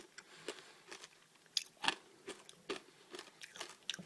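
Close, crisp crunching bites into a Charms Blue Razz Super Blow Pop lollipop, a series of about a dozen irregular sharp cracks with quiet chewing between them and no talk.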